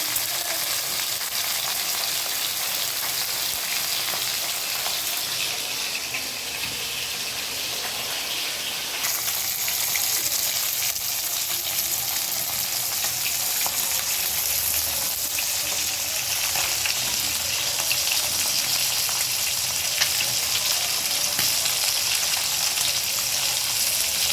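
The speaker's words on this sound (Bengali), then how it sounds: "তেল দিয়ে মাছগুলো ভেজে নেব মাছগুলো ভাজা শুরু করেছি" Fish sizzles in hot oil in a pan on a village kitchen stove, a loud, continuous hissing fry that carries on steadily throughout with faint crackling texture and no voices.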